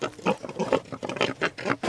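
Cartoon pigs on a farm grunting and oinking in quick repeated bursts, close and moderately loud with no speech over them.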